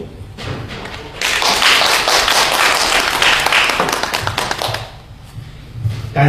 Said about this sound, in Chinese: 感谢您的掌声